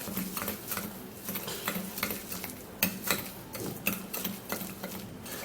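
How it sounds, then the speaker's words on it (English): A turmeric skin remedy with lemon juice is stirred in a bowl, giving steady scraping and clicking strokes at close range with no talking. "So now we'll have to stir this all up."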